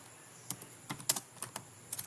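Quick, light keystrokes tapped on a computer keyboard while entering a name during a Linux Mint install, a short irregular burst of clicks heard close and alone.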